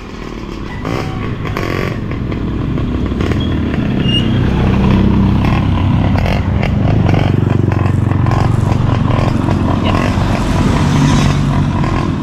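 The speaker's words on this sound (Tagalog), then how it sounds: "Yung single na motor na lang po ng Kuya Loni po yung aming gagamitin." A single motorcycle rides along, its engine droning steadily and fairly loud throughout, building slightly, with rattling and scraping clatter from the machine and road.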